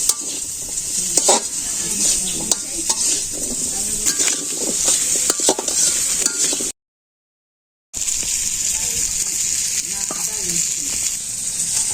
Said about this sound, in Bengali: তেল দিয়ে আলু দিয়ে আলুটা আর কি ভাজুম হালকা